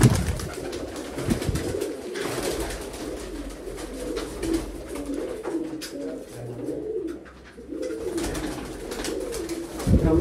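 Several Sialkoti pigeons keep up a steady run of soft rolling coos, layered and continuous near at hand, with a brief lull toward the end and no voices.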